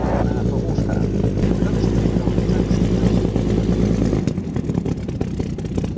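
A 210-horsepower vintage aircraft engine in a tail chase, a loud continuous rumbling drone with a rough throb that thins out near the end.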